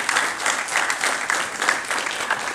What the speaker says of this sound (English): Get your round of applause for all your work.